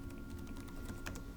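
Rapid, continuous typing on a computer keyboard, close and fairly quiet, a steady patter of key clicks with no voices over it.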